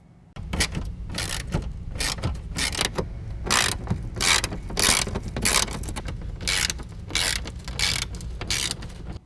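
A ratchet with a 7/32 socket backs out fender well screws on a vehicle during a Bushwacker Pocket Style fender flare install, giving bursts of rapid clicking repeated in quick rhythmic strokes, close and fairly loud.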